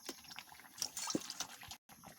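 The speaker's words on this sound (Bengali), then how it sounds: "আলু ভালো করে ধুয়ে নিচ্ছি" Potatoes being washed by hand in water, with faint splashing and dripping close by, small sloshes and trickles, and a brief cut near the end.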